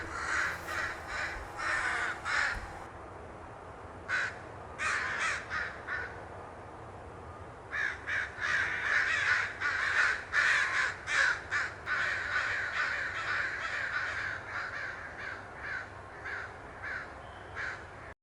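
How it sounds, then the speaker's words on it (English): Crows caw repeatedly in a backyard, loud harsh calls in bursts with short pauses, several birds overlapping near and farther off, no talking. "After the offering was done, the crows went silent."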